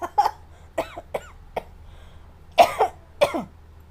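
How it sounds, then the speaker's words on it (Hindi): A series of sharp, dry coughs, about seven in all, coming in two uneven clusters with short pauses between, close by and with no talking. "वो खांसने लगा।"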